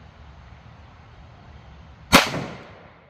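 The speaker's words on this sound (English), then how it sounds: "I'd like to say I would shoot a little bit better with this gun because it's a lot nicer gun" A single sharp gunshot from a 1911 pistol with a 5-inch barrel chambered in .357 Sig, a loud crack with a short decaying echo following a quiet lead-in.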